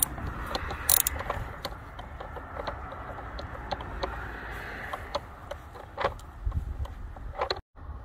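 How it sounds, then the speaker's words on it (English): A 13mm socket on an extension unscrews a battery holder screw, making a run of small metallic ticks and ratcheting clicks close by, with a brief sharp clatter near the start and no speech. "you want to squeeze it in here and pretty much unscrew that screw"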